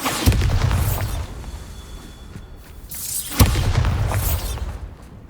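Two heavy booming blasts of the Bombarda explosion spell in Hogwarts Legacy, each a sharp burst with a rumbling tail and whooshing debris, spaced a few seconds apart, loud and close.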